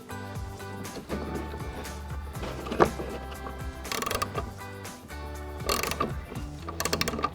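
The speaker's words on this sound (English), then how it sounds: "So we'll grab our 15mm ratcheting wrench and go ahead and get that off." A 15mm ratcheting wrench clicks in quick rapid bursts while loosening an upper shock mounting bolt on a 2016-2024 Camaro during a coil-over install, heard close alongside background music.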